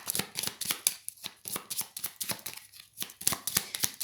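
Tarot cards being shuffled and drawn by hand, a quick run of crisp riffling flicks and soft slaps close up, with no talking.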